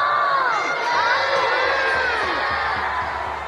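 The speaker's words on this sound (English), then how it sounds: "And the crowd goes wild." An animated basketball game's crowd cheers loudly, with high children's shouts and whoops swelling together in one short, excited burst.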